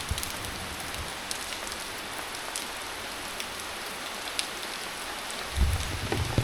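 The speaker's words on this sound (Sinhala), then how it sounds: "එළිය හොඳටම වහිනවා" Heavy rain pours steadily outside during a trip on Bintan Island, a dense continuous hiss of drops on surfaces with scattered louder splashes and a low thump near the end.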